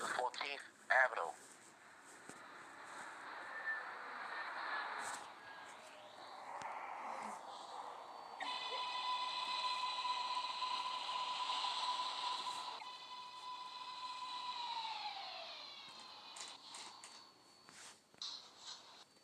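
A simulated NYC subway R188 train on the 7 line arrives at a station in the Hmmsim 2 game, its electric motors whining in steady rising and falling tones with brake hiss, under an automated station announcement voice.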